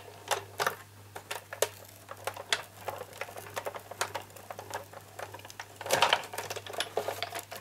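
Cardstock cranked through a manual die cutting machine, heard as a close, quiet run of irregular clicks and ratcheting ticks with a faint steady hum underneath and no speech.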